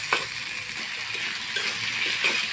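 Chopped tomatoes hitting hot oil after fried onion and ginger for a prawn malai curry, a loud steady sizzle with a few stirring scrapes and pan clinks close by.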